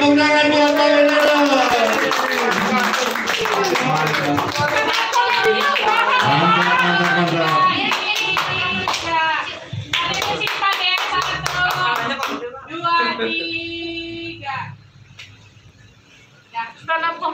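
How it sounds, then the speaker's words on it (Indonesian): Audience applause for Pak Antoro at the Samudera Indonesia 57th anniversary event, clapping blended with loud tonal music and voices, fading before a brief quieter tail. "Tepuk tangan buat Pak Antoro."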